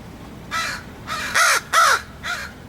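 A crow caws at very close range in five loud, harsh calls, spaced roughly every half second, with the middle two the strongest.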